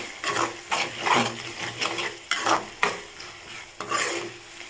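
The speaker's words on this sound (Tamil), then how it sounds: "இந்த மாதிரி தக்காளி வெங்காயத்தை நல்லா வதக்கிக்கோங்க" Tomato and onion sauté in a pan, a soft sizzle beneath a regular rhythm of spatula scrapes and stirring pulses, about one every half second, heard up close with no voices.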